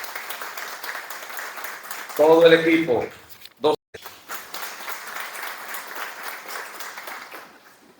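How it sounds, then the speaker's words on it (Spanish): Audience applause at an institutional health event, a soft steady patter of clapping that runs under the whole stretch, interrupted briefly by someone speaking into a microphone and a couple of handling bumps. "Aplauso para ellos."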